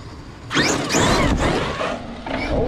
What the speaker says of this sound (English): Hey, what's up with this servo?